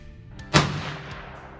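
A single sharp gunshot from a .22 Magnum rifle fired through a chronograph at an outdoor speed test, loud and close, with a short decaying tail and no talk.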